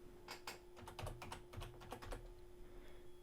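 Rapid keystrokes on a computer keyboard, typing a short word in a burst of clicks that taper off, close and clear with no talking.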